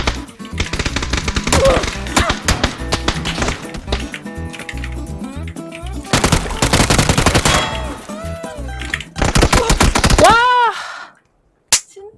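Bursts of rapid automatic gunfire and single shots ring out in a shooting video game, loud and dense with overlapping game effects, and then cut to near silence at the end.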